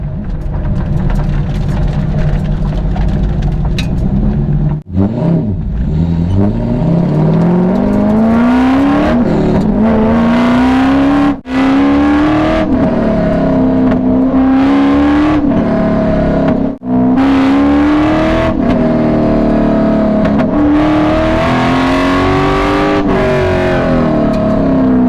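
A C5 Corvette at an autocross event, its engine loud and close throughout, revving hard through repeated rising and falling pulls as it accelerates, shifts and brakes between corners, with brief dips around gear changes.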